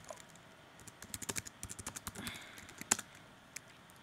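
Typing on a computer keyboard while composing a tweet: a quick irregular run of crisp, close key clicks, sparse at first then bunching into a busy burst before trailing off, with no speech over it.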